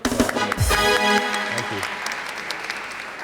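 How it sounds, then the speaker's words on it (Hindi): Studio audience applause on a talk show, a brief burst of clapping that starts after a loud voiced moment and gradually thins out, with speech mixed in early on. "तालियां डीनो की"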